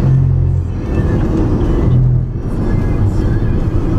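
A car overtaking close by on a road, a loud steady engine rumble and tyre roar right next to the listener, swelling slightly as it passes, with wind buffeting throughout.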